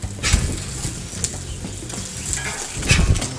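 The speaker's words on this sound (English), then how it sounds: "Now we're going to go ahead and flip them" Sausage patties flipped on a hot Blackstone griddle, a steady sizzle underneath with a few spatula scrapes and taps, the clearest toward the end.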